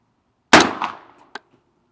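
A single suppressed 300 Blackout rifle firing a subsonic round at the range, giving one sharp, muffled report with a short ringing decay, followed by a faint metallic clink, alone.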